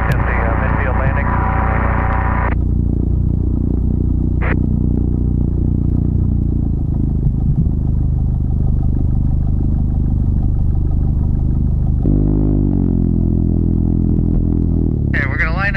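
Gyroplane engine droning steadily through a landing approach, a loud continuous hum with a shifting pitch partway through, heavy under an intermittent pilot radio voice.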